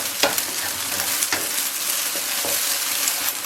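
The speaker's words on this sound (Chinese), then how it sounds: "把鸡蛋搅散" Beaten egg stirred and fried over high heat for egg fried rice, a steady close sizzle with repeated scraping strokes of the utensil against the pan, no voices.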